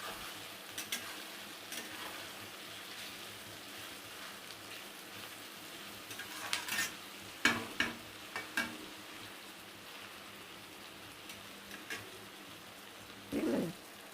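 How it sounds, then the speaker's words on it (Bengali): Tomatoes fry in a pan with a soft, steady sizzle. Scattered scraping knocks from stirring stand out near the middle of the clip, and a brief louder clatter comes at the end. No one speaks. "টমেটোটা একটু ভেজে নেব। টমেটোর কাঁচা গন্ধটা যতক্ষণ না যায় ততক্ষণ আমি এটাকে ভাজবো।"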